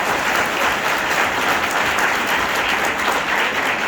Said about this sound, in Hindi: ताली बजाओ भाई साहब, देखो ये लीडर है